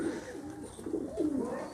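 An Ude pigeon from Tonk coos in soft, rolling low-pitched murmurs, close by and continuous over a short stretch with a faint background hum.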